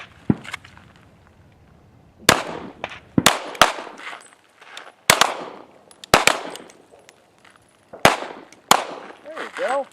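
Gunshots from shooting training in the desert, sharp reports fired in quick volleys of two or three with short pauses, loud and close with ringing tails, plus faint movement between strings.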